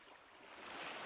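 Crashing waves from Persona 4 Golden: a steady, broad wash of surf that swells slightly louder toward the end, with no voices over it.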